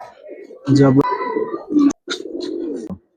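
Silver Giribaz pigeons coo in low, throaty bursts close by, with short gaps between calls and someone talking over them.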